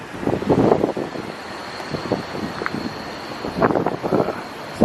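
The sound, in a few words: wind blowing outdoors by the water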